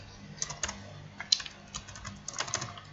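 Soft, close keystrokes on a computer keyboard, irregular clicks in small bursts with short pauses, quiet and alone without talk.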